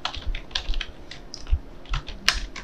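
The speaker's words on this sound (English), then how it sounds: "here you simply type JavaScript" Typing on a computer keyboard while entering code in an editor: a quick run of light, uneven key clicks and taps, close and fairly soft, with no talking.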